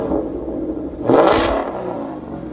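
A 2021 Ford Mustang GT with a 5.0L Coyote V8 and Corsa Extreme cat-back dual exhaust revs hard once, rising from a steady idle into a loud, rasping burst that holds about half a second and then settles back to a rumble.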